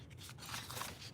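Scissors snip through paper for a December Daily journal, a soft continuous cutting rasp ending in a sharper, louder snip near the close.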